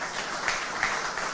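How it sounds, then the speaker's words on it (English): Brief burst of audience applause closing a panel discussion on technology and the future of work: steady, dense clapping from a crowd, fairly loud and even throughout. "A huge round of applause for our panelists for their time"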